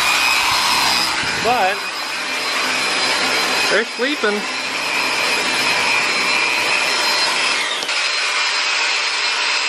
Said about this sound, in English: Getting some sanding done.